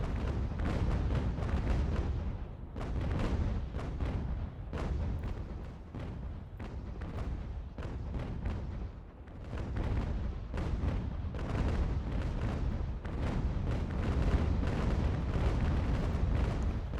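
A warship fires broadside after broadside of cannons in the naval battle game Ultimate General: American Revolution, rolling booms crowding together in a heavy, continuous barrage with only brief lulls.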